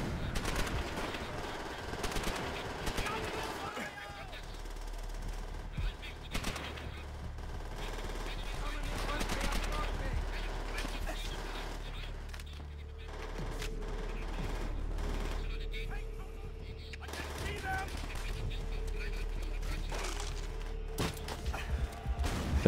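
Gunfire in Call of Duty: World at War, repeated bursts of rapid shots and scattered single cracks over a low rumbling battle bed, with talk in between.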